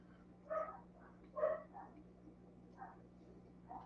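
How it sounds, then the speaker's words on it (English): Several dogs bark somewhere below and at a distance, giving a few faint, spaced barks over a steady low electrical hum. "can hear the dogs down there barking"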